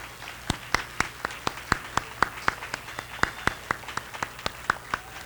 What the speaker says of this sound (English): could you please stand up while we give you a round of applause?